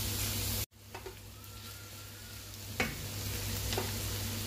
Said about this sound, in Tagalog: Then, haluin lang po ng halutin natin. Mix lang po natin.